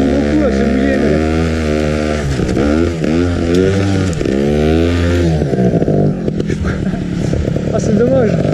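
Trial motorcycle revving hard as its rear wheel spins on wet, slippery ground, a loud, close engine rising and falling in repeated bursts, with a voice talking over it.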